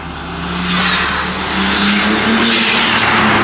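A BMW G80 M3 engine with upgraded intakes roars loudly and steadily with a broad, rushing intake sound, close up and sustained throughout.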